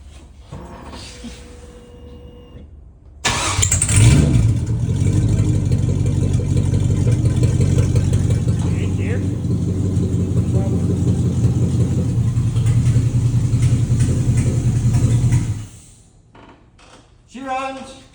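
An LS-swapped 1973 AMC Gremlin X with an unfinished exhaust cranks and fires abruptly after a quiet lead-in, then settles into a loud, steady idle for about twelve seconds before shutting off, with faint voices around it.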